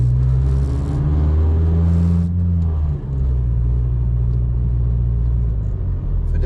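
A Mazda 3 with a worn engine mount, pulling in gear under throttle, gives a steady, close, heavy low rumble that holds throughout with a brief dip midway.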